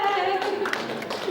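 An audience claps at a casual talk, a short burst of scattered handclaps under a voice.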